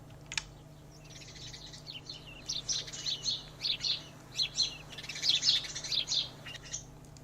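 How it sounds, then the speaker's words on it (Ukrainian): Sparrows chirp in bursts of quick, bright tweets, several short calls clustered into repeated phrases over a low steady background hum, fairly close and clear with no voices. "Це у нас горобець."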